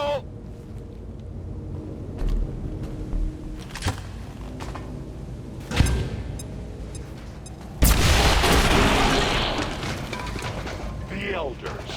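A grenade blows up in the XCOM 2 video game as a loud, broad boom that erupts partway through and rumbles on for several seconds, preceded by sharper gunfire-like cracks and mixed with voices talking.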